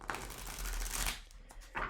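Tarot cards riffle and slap together in quick, papery bursts as they are shuffled by hand, a close and fairly quiet rustling that comes in short uneven flurries.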